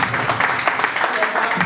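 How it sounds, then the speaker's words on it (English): An audience at a tech certification graduation claps for a graduate, a lively crowd of hands with distinct sharp claps standing out near the front, sustained and fairly loud with some voices under it. "Please clap for him"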